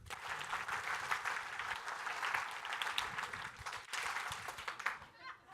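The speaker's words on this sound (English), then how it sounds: "A lot of people just kept on clapping." Audience applause fills a conference hall at a large annual gathering, dense sustained clapping from many people that swells, dips briefly, then surges again before tapering.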